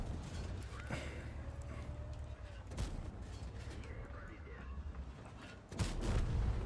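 Several sharp, booming artillery shots and impacts in World of Tanks, spaced a couple of seconds apart over a low engine rumble and mechanical creaks, with a heavier blast near the end.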